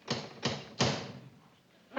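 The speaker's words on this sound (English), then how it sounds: "And he knocks on the door." Someone knocks on an apartment door, three sharp raps spaced evenly with a fourth starting at the end, close and crisp over a quiet room.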